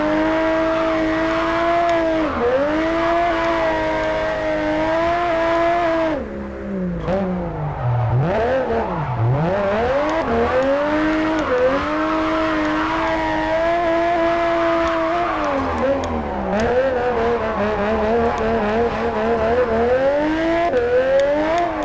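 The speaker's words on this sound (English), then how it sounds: "we gotta see if we can drift this thing now" A Nissan Skyline R34 GT-R engine drones and revs continuously while drifting in JDM Japanese Drift Master, dipping and rising in pitch through slides, with tire squeal mixed in; no talking.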